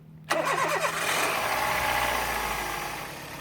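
A car engine just washed with foam and water cranks briefly, fires and settles into a steady idle, heard close and fairly loud with no talking over it.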